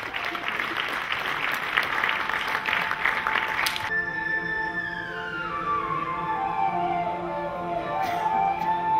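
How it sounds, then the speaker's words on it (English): An audience claps loudly for a few seconds at a ceremony honouring a chief guest, then the applause cuts off and sustained tonal music carries on alone. "Ladies and gentlemen, a big round of applause."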